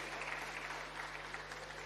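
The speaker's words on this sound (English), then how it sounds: "Let's clap them again." Applause from an audience at a youth closing ceremony, steady clapping heard faint and distant with a low hum underneath.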